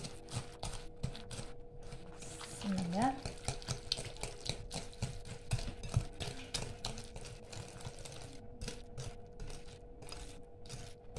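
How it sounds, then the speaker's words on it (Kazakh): A whisk beats 100 grams of sugar and two eggs together in a bowl for a curd pie, a quiet, fast, steady clinking and scraping that runs throughout with a faint voice at times. "2 дана жұмыртқамыз салып, венчигімізбен араластырып аламыз"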